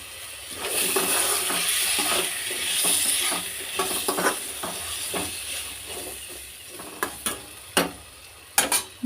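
Cucumber pieces fry in a little oil in a pan, giving a steady close sizzle that fades toward the end. Scattered clicks and scrapes from stirring break through in the last few seconds.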